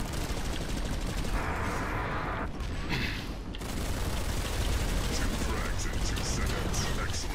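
Rapid, dense shotgun fire in Planetside 2 runs without a break, loud and close, over a constant clattering game mix with a short muffled stretch partway through.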